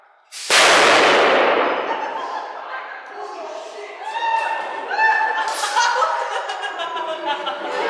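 A high voltage discharge at 80,000 amps fires in a sudden loud crack, followed by a long ringing, crackling decay, with people's voices and murmurs rising underneath afterward.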